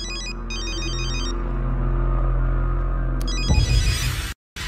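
An electronic phone ringtone plays in repeated bursts of high beeping tones over a low hum, ending in a brief cutoff.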